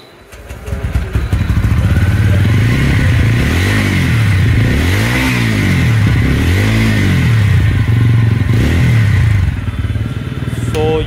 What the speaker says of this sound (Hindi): अब इसका एक बार एग्जॉस्ट साउंड सुन लीजिए।